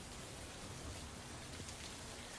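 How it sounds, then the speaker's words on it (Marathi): Heavy rain pours steadily over a flooded area around Catania in Sicily, Italy, a continuous dense hiss of falling water that stays even and fairly faint throughout. "इटलीमध्ये देखील मुसळधार पाऊस सुरू आहे"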